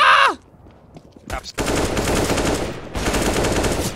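Automatic rifle fire in the video game CS:GO rattles out in two long, loud, rapid bursts after a short electronic tone and a near-silent gap, with a player's voice briefly audible.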